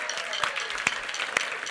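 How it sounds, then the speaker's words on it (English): At an animal shelter fundraising gala, the audience applauds briefly, a soft patter of mixed clapping with a few sharp individual claps standing out, fairly quiet in a large room. "Give yourselves a round of applause."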